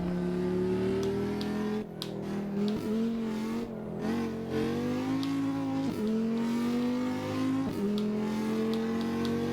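Simulated car engine in a racing video game played with a gamepad, a loud continuous drone that rises and dips with repeated revving and gear changes across the whole stretch, with no voices.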